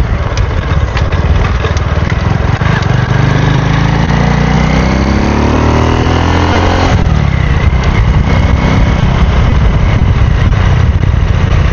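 A Modenas Kriss 110 motorcycle fitted with an adjustable CDI runs loud and close. The engine revs up with a rising pitch, drops back, and then holds a rough, steady high idle.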